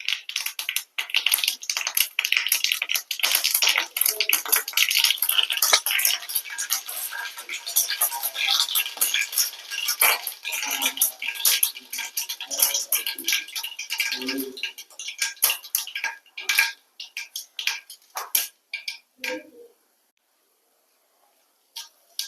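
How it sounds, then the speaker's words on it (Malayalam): Mustard seeds and dried red chillies sputter in hot coconut oil as a tempering for a Kerala mango curry, with dense sharp crackles and pops that thin into sparse snaps before falling silent. "വെളിച്ചെണ്ണ ചൂടായി വരുന്നുണ്ട്, അതിലേക്ക് നമുക്ക് കടുക് ഇട്ട് കൊടുക്കാം"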